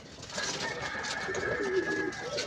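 Soft, low cooing of pigeons close by, blended with rustling and background noise throughout.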